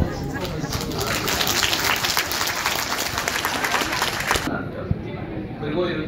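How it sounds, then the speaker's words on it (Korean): Wedding guests applaud the newly married couple in a loud, thick round of clapping with some crowd murmur, which cuts off sharply near the end and leaves quieter room sound. "큰 박수로 축하드립니다."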